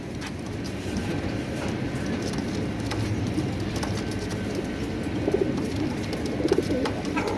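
Pigeons, including a red white-barred female at a farm, coo steadily nearby over a constant low background hum, with a few louder coos toward the end and no talk.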